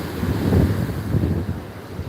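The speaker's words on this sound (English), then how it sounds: "The waves from Channel Islands dunes in Oxnard, California, USA." Ocean waves roll in at the Channel Islands dunes in Oxnard, California, a broad low rushing surf with two swells rising and falling, mixed with wind buffeting the microphone.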